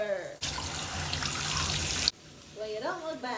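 Cold tap water runs to rinse freshly box-dyed pink hair. A steady burst of rushing water lasts under two seconds, then cuts off abruptly, and a voice follows.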